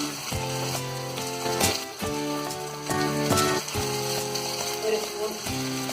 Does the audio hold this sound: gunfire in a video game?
no